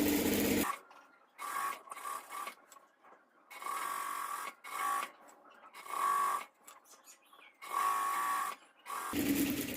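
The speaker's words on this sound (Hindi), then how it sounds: "यहाँ से हमें सीधी सिलाई लगानी है" A sewing machine stitches an Afghani salwar in repeated bursts of fast, buzzing running, each lasting about a second, separated by short pauses, close and clear.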